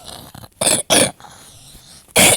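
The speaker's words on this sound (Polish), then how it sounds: "też będę miał taki dźwięk, bo mam kaszel" Three harsh coughs from a man who is ill with a cough, two bursts close together and a third after a short pause, near and loud, with faint breathing between them.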